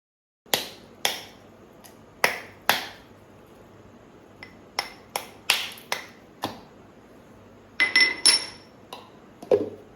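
Ice being broken up and dropped into a metal cooker container, heard as a series of sharp, separate cracks and clinks, close and fairly loud, irregularly spaced with a quick cluster near the end.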